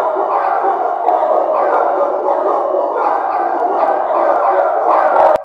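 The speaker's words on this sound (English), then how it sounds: "You just added a lot of barks from the audio sound effects library." A dense wall of many dogs barking at once, overlapping into a loud, continuous yapping chorus that ends abruptly.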